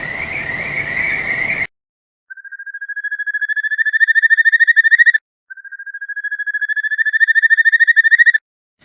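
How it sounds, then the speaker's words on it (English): A kajika frog sings two long, clear trilled calls, each rising and swelling in pulsing whistle-like notes, loud and close against silence after a brief burst of other ambient sound at the start. "The type of frogs mentioned in the poems is the frog called kajika."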